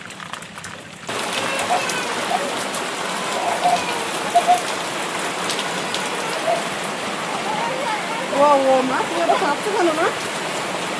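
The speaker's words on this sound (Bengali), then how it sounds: "বৃষ্টি হচ্ছে তো মা?" Steady heavy monsoon rain pours down in the Sundarbans, a dense hiss that fills the whole clip, with a voice speaking briefly over it partway through.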